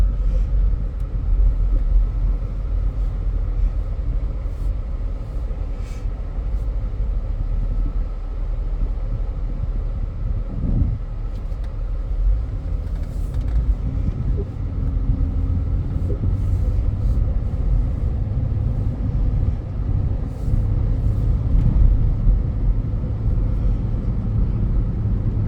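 A 2008 Pontiac Torrent with 192,000 miles on the clock is driven, its engine and road rumble holding a steady, loud, low drone throughout with no speech.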